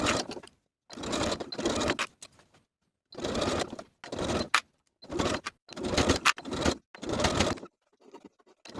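A sewing machine stitches a sleeve seam on a flutter-sleeve top in repeated bursts of steady whirring, each lasting under a second with short silent gaps between runs, close and clear.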